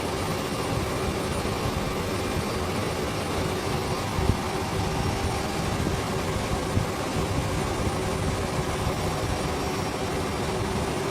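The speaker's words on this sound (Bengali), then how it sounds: "এখানে চলতেছে 970-72 এরকমের আরপিএমে চলতেছে এই ইঞ্জিনটি" Right-side main engine of a ship running steadily at about 970 rpm in the engine room, a loud continuous mechanical roar and hum with no breaks, close and alone.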